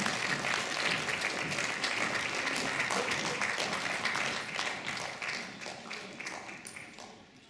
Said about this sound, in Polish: Proszę Państwa, wchodzą więc oklaski ogromne.